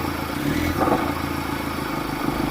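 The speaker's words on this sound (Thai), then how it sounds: "นี่เขาเร่งเครื่องนะครับ" An engine runs nearby with a rough, steady drone, briefly rising as it is revved, then settling back to a clattery idle.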